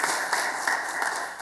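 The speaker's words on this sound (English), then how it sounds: "let's have a warm round of applause for Monique" An audience at an employee resource group launch event applauds a speaker, a dense, steady wash of many hands clapping, fairly loud and close, continuous without gaps.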